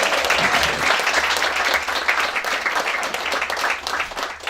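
An audience at a music venue claps and applauds steadily, a dense, sustained wash of many hands that holds its level throughout.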